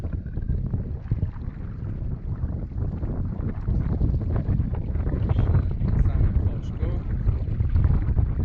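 Steady wind buffets the microphone on open water at a reservoir, a constant low rushing roar that swells slightly toward the end.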